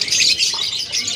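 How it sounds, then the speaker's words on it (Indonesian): Small caged birds at a Yogyakarta animal market give bright, rapid chirps and tweets, close and fairly loud, in a brief burst with no talk over them. "Ada burung parsit, burung labet,"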